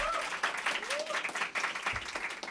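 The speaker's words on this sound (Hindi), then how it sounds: "एक बार फिर से जोरदार तालियां।" An audience at a stand-up open mic event applauds in a steady, dense patter of clapping that lasts throughout, with a faint tonal sound in the background.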